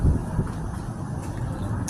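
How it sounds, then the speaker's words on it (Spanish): Wind buffets the microphone on a street in the Bronx, a steady low rumbling roar with gusty swells and faint traffic mixed in, continuous throughout with no talking. "Mucho viento hoy."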